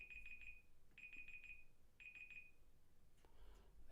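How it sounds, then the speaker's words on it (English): A timer alarm beeps in three quick bursts of rapid electronic tones, each burst repeating about once a second, clear and fairly close, followed by faint rustling. "there's our timer."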